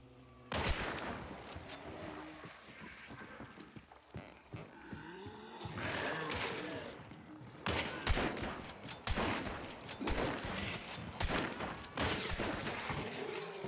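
Repeated gunfire bursts from the video game Hunt Showdown, loud sharp volleys clustered early and again through the second half, with rumbling game ambience between shots.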